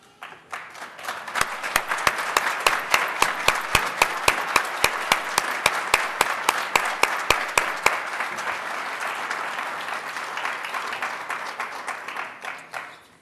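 Applause at a Jefferson Community College nurse pinning ceremony, a sustained round of many hands clapping with a few sharp, close claps standing out in rhythm over the first half before the crowd tapers off.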